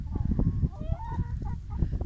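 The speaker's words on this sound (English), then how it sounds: "Happy, happy chickens." Garden chickens make a few short clucks and honk-like calls close by, over a low rumbling background.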